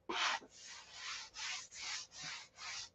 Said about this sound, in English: I got to quit sanding there.